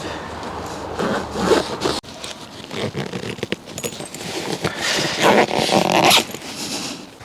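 A folding bike bag holding two bike wheels is zipped shut by hand, giving rough, scratchy zipper pulls in bursts over rustling and handling noise, loudest near the end.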